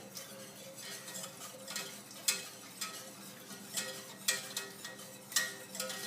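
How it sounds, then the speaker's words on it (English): Milk being whisked into peanut butter pudding, a steady series of light metallic taps and scrapes of a whisk against a bowl, close and fairly quiet, with no talking. "So just whisk constantly until it's all in."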